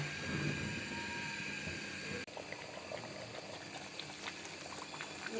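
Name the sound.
dried fish and egg mash cooking while stirred in a pan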